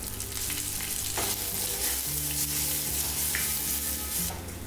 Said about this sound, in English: add mustard seeds, dried red chilli, green chilli, curry leaves and crushed ginger garlic paste and sauté for 1 minute